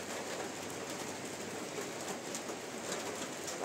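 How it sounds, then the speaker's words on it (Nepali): Steady rain falling outside on a wet day in Kalimpong, an even hiss of drops that stays constant and moderately faint, with faint bird cooing in the background. "बाहिर चाहिँ पानी पर्दैछ"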